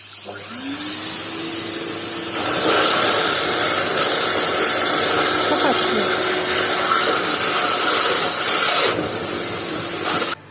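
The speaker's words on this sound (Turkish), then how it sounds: "şu pompanın yapacağı vazifeyi halı yıkama makinesiyle yapacağız" A carpet washing machine sucks out a clogged sink drain, whirring and hissing with steady suction for about ten seconds, its motor tone droning constantly with no talking.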